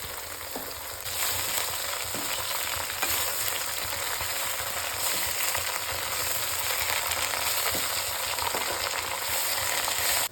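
Coriander leaves dry-frying in a pan give a steady, soft crackling sizzle with occasional stirring scrapes, continuous and close throughout.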